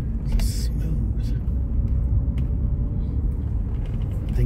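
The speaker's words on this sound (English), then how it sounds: "Listen to my car. It runs so good." A car on the road heading to the mechanic, its engine a steady, smooth low rumble throughout while driving, with faint clicks on top.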